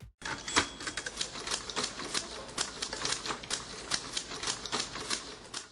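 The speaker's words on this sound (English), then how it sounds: "Even the humble typewriter, with its clattering keys and carbon copies, was a technological marvel in its time." An old 1970s typewriter clatters away in a fast, steady barrage of sharp key strikes, close and crisp, continuing for several seconds with no talk; no clear bell ding stands out.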